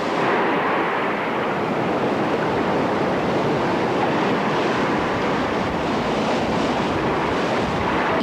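Ocean waves wash onto the shore of Jeju before dawn, a steady loud roar of surf with wind buffeting the microphone, continuous and unbroken with no voices.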